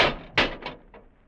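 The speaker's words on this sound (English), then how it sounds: "The doors, Dudley, they're closed." Doors closing as a sound effect in an audio drama set around a time machine: a soft thud, then a sharper slam followed by two fading knocks in quick succession.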